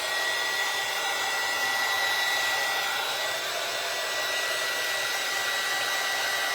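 A hair dryer runs continuously to dry paint on a pumpkin, a steady, loud, close whooshing blow with no change in pitch and no talk.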